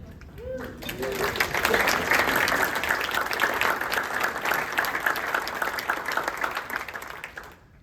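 An audience applauds Joanna, the former executive director of Shoal Creek Conservancy, as she stands at a community gathering. The clapping is steady and full, swelling quickly and holding for several seconds before tapering off. A voice is briefly heard early on.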